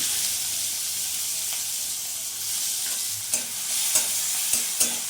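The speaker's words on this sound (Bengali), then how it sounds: "পটলটা ভাজা ভাজা হয়ে গেছে এখানে একটা পেঁয়াজ কুচি আমি দিয়ে দিলাম" Chopped onion fries in a pan of hot refined oil with whole cumin and fried pointed gourd, giving a soft, steady sizzle broken by several sharp scraping stirs toward the end.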